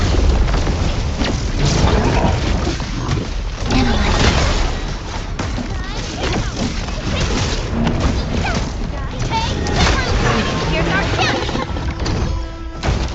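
Heavy booms, crashes and weapon fire from combat in the video game Arknights: Endfield, loud and dense throughout, with game voices speaking among the blasts.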